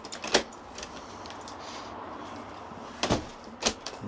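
A composite stable door in Chartwell green is locked by lifting its handle and turning the key, giving a sharp click near the start and two closer clunks near the end over a quiet room hush.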